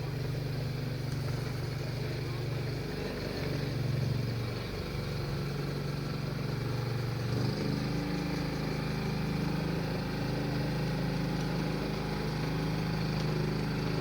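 A miniature steam traction engine driven by a diesel hydraulic engine mounted in its firebox putters along in a parade, a steady moderate diesel drone whose pitch shifts slightly partway through, with faint voices nearby.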